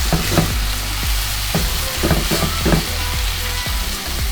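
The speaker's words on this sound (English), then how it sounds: "So what I do is I just mix the eggs in the pan, just like this." Beaten eggs for a lobster tail omelette sizzle loudly in a frying pan, a steady close frying hiss broken by repeated soft taps and scrapes as the eggs are mixed in the pan; no voices.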